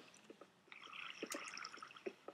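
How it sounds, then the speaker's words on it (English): Water trickles and drips in a Minecraft cave: soft, faint splashing and dribbling with small irregular plops, fairly quiet and close. "And I even hear water."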